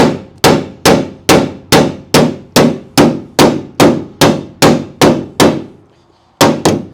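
A hammer strikes a metal part in a workshop repair, landing about a dozen sharp, loud, evenly spaced clanging blows, a brief pause, then two more hits close up with no talking.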